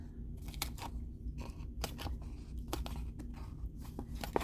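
Scissors snipping through stamped paper scraps for a scrappy craft project, a series of short crisp cuts at an uneven pace, fairly faint against a low steady background hum.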